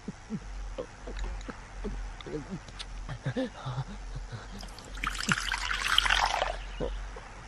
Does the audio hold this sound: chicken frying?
no